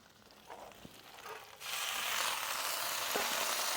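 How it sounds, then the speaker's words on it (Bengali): Sliced drumsticks and potatoes fry in a pan for a rohu fish curry; a low sizzle jumps abruptly into a loud, steady hiss as peas are added, with a few small clinks. "সজনে ডাঁটা আর আলু আমাদের ভাজা ভাজা হয়ে গেছে, এবার আমি অল্প করে মটরশুঁটি দিয়ে দিচ্ছি"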